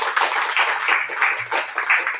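A church congregation claps together in a steady, rhythmic beat, close and fairly loud, with no talking over it.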